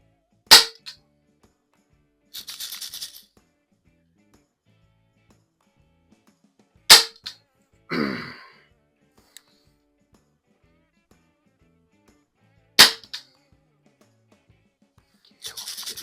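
A Healthways 175 BB pistol fires three sharp, close shots spaced several seconds apart, with brief rattling and scraping handling sounds in between and near silence otherwise.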